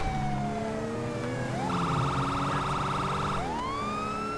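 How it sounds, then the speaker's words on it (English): A police car siren wails and yelps in GTA 5, its pitch sweeping up and down, then switching to a rapid warbling tone before returning to a wail, loud and continuous over traffic noise. "Let's put the siren on"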